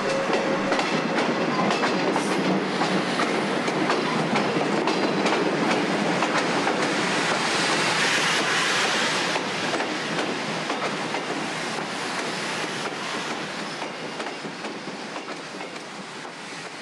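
A diesel train rumbles past on the Long Island Rail Road Atlantic Branch at Dunton, loud and close, with steady clattering wheels and a broad roar that slowly eases as it moves away.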